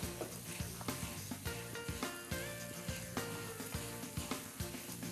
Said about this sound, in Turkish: Beraber kavrulmaya devam etsin.